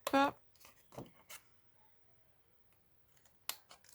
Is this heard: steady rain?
no